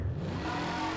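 A car driving away in the Garry's Mod video game, a continuous engine drone with a slight rise in pitch as it pulls off, heard alone for about a second.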